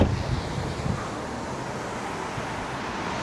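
Steady outdoor wind in downtown Miami's South Beach rumbles and buffets the microphone, with a soft roar of distant traffic underneath and no talking.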